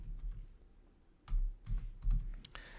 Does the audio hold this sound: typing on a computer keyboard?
yes